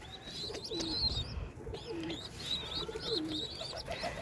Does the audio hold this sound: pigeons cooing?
yes